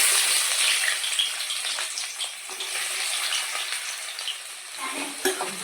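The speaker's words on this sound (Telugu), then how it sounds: "Oil మరిగింది, onions వేసుకుంటున్నామండి." Onions hit hot oil in a bowl for a mutton curry, giving a loud, hissing sizzle that eases slightly over several seconds, with a sharp clack near the end and no speech.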